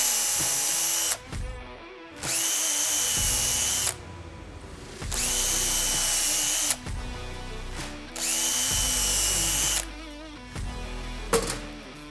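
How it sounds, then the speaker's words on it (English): A plunge drill bores pilot holes for screws in a fire door, whirring in three loud bursts of about two seconds each with short quiet gaps and clicks between, then a brief final spin. "Pilot drill the holes and put the screws in."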